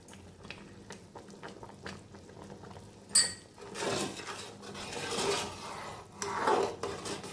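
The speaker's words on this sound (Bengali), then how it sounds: "কারিটা ফুটতে লেগেছে" Kadhi curry bubbling in a pot, soft low plops and popping bursts that grow busier after a sharp clatter, with faint utensil clinks mixed in.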